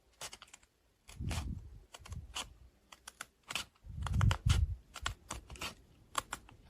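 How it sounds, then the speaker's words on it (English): Scissors snip paper edges from a DIY winter phone case kit in short, crisp clicks and cuts, irregular bursts close to the mic in a quiet room. "I'm trying to cut the edges carefully and neatly."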